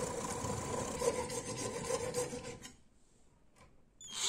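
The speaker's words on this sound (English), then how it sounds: "Cut the brass rod." A brass rod being cut by hand, a steady rasping back-and-forth sawing close by for about two and a half seconds, then stopping into near silence with a few faint clicks.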